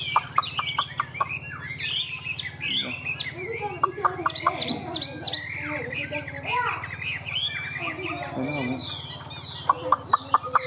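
A tame hwamei songbird sings continuously in rapid, varied, whistled phrases of chirps and trills, fairly close, with someone talking over parts of it.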